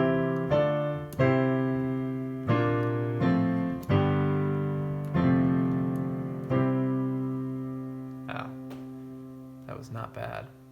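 A piano plays a song in an intermediate arrangement built on full six-note chords, each struck chord ringing and slowly fading before the next, close and clear with no voices.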